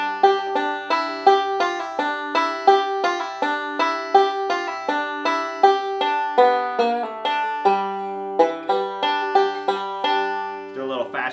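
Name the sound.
banjo lick played with roll and fill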